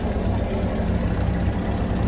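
A Ferguson TED20 tractor runs steadily while its PTO shaft drives a Vicon Varispreader spreading wildflower seeds, giving a close, continuous low engine drone with even mechanical rumble and no talking.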